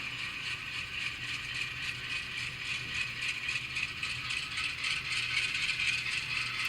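Model train with an ESU sound decoder running, giving a quiet, fast, even mechanical rattle and clatter with a hissy upper tone, steady and close, without speech.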